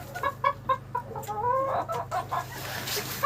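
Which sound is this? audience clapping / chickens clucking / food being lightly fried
chickens clucking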